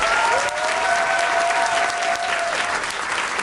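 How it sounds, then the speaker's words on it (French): Masterclass audience gives loud, sustained applause for Kim Morgan and Guillermo del Toro, a dense steady clapping that fills the whole stretch with a faint tonal whine running beneath it. "Je vous demande d'applaudir très fort Kim Morgan et Guillermo del Toro."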